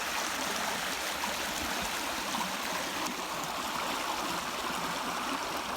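Turkey Creek running along a nature trail, a steady, close rush and babble of flowing water that fills the whole stretch without a break, with no voices.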